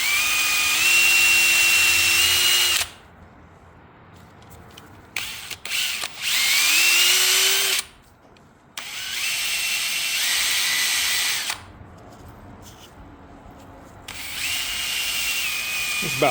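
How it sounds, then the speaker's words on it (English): A Scotch-Brite pad chucked in a drill cleans a 454 cylinder head, the drill whining loud and steady in bursts that rise and fall in pitch, separated by short quiet pauses. "Use a Scotch-Brite pad to get the rough stuff off."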